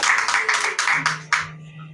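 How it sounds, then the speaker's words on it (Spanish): A church congregation claps their hands during a Spanish-language sermon, about five loud, rhythmic bursts of clapping that fade out after a second and a half, leaving a low hum. "Dale palmas."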